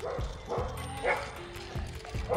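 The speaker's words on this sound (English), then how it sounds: "There's a lot of dogs." Several dogs bark and yip in a park, repeated short barks arriving in bursts at close to moderate distance, with faint voices in the background.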